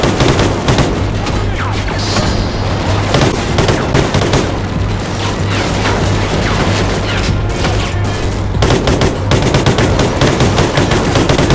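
Sustained loud machine gun fire from the Call of Duty: Ghosts mission Atlas Falls, dense overlapping bursts of gunshots with booms and crashes filling the whole stretch.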